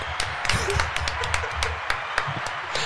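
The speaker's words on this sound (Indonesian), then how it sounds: "tepuk tangan dulu lah untuk semua" Scattered hand clapping from a small group in a casual music podcast setting, sharp irregular claps close by over a low murmur, no clear talk.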